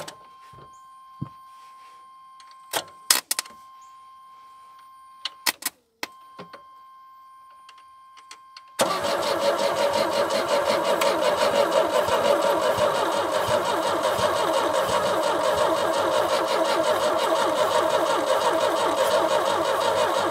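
A 1989 Chevy S10 engine, abandoned for 22 years, catches after a few quiet clicks and brief starter attempts, then runs steadily and loudly at a rough idle for the rest of the clip.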